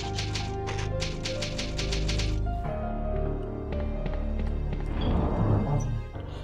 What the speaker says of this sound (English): It's an old typewriter. You can save your process here.